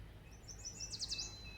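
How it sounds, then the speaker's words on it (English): Yellow warbler song heard outdoors from a kayak on the water: a quick run of high, bright chirps lasting under a second, faint and somewhat distant over a low background rumble, with no talking. "That little bird that I just heard was a yellow warbler"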